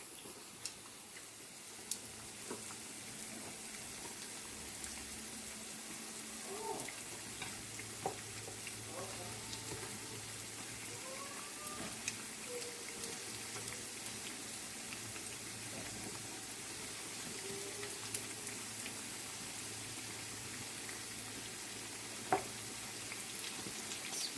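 Doughnuts frying in oil give a faint, even bubbling sizzle that runs continuously, with scattered small ticks and taps from a utensil turning them.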